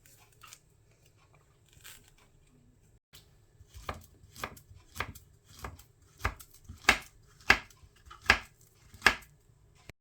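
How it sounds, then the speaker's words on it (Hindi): A knife chops through a banana on a board, starting as sparse soft taps and building into a run of crisp, evenly spaced cuts that grow louder, close up with no talking. "सबसे पहले बनाना को काट लेते हैं।"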